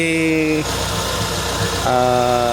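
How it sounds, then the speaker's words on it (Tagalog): A carbureted Mitsubishi Lancer engine runs with a misfire and low power, a steady droning idle whose pitch dips and then steps back up partway through. It is heard up close. "napuputol-putol yung andar niya. Parang palyado, ganun, parang low power."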